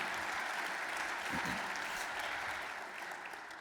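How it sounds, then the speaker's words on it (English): Steady audience applause filling the whole stretch at an evening event, a dense wash of many hands clapping at an even level that fades slightly toward the end. "Can we give Daniel a round of applause?"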